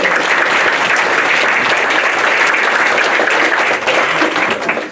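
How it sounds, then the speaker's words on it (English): Sustained applause from an audience honoring a music teacher at an awards event, dense steady clapping filling the whole stretch without a break, loud and close. "give Sue a round of applause"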